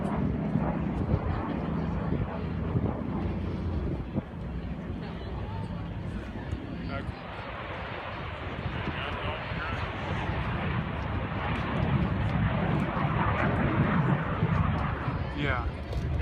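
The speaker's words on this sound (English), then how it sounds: "Oh, there's a MiG-15." A MiG-15 jet at an airshow gives a steady broadband roar that holds loud and wide throughout, with voices talking over it.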